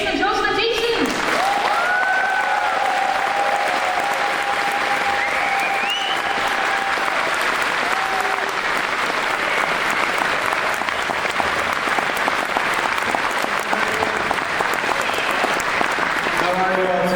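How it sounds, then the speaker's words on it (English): Sustained convention audience applause for Jason and Jocelyn Thiessen at GalaCon 2015, a dense, loud wash of many hands clapping throughout, with some cheering and a voice carrying faintly over the crowd. "So give a really big appreciative applause for Jason and Jocelyn Thiessen."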